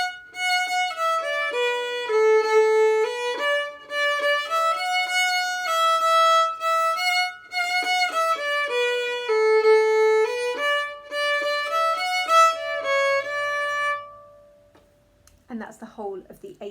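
The A section of the folk tune The Other Rogue played as a steady melodic line on a single sustained, reedy instrument, clear and close for about fourteen seconds before stopping, followed by a brief rustle.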